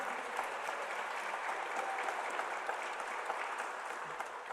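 A congregation at a prayer rally at a mountain prayer retreat breaks into steady, sustained applause, a dense, even wash of many hands clapping together with no voices rising above it.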